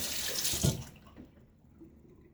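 A short splash of water poured into shaving soap close by, trailing off quickly into near silence.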